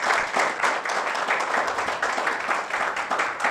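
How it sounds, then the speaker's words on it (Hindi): An audience applauds at a class session, producing dense, steady clapping that fills the whole stretch without pause or voices. "जोरदार तालियां इन सबके लिए।"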